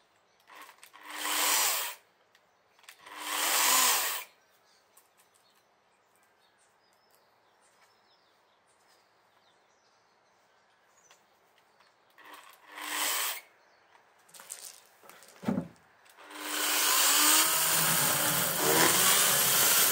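Wood is cut with a saw in short bursts: two strokes early, then a pause with faint background, a couple of brief cuts, and finally sustained sawing that runs loud to the end.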